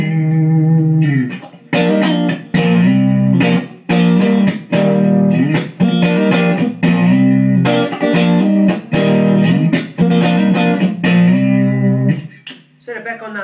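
An electric guitar through a Giant Killer amp plays a rhythmic riff of short chord stabs separated by brief gaps, bright and bouncy, ending in a held note.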